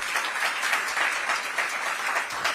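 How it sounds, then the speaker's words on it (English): An audience at a Washington DC public event on healthcare career opportunities breaks into steady, dense applause that fills the room without interruption. "For a big round of applause."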